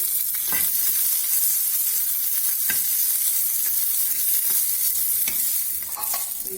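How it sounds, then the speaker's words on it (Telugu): Halved green chillies fry in a pan with a steady, bright sizzle close by, broken by occasional clicks of stirring against the pan; no talking. "గ్రీన్ చిల్లీ ఇలా ఫ్రై అయిన తర్వాత"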